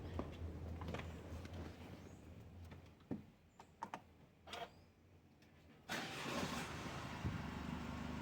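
A Mercedes 417 van with its injection warning light on is started nearby. Several clicks and key sounds come first, then the engine cranks and catches into a steady, loud idle for the last couple of seconds.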